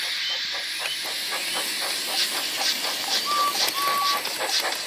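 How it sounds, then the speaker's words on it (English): A Bachmann model Thomas-series steam locomotive hisses loudly and continuously, with rhythmic chuffing pulses and a couple of brief high whistle-like squeals partway through. "made lots of steam, and Edward puffed away"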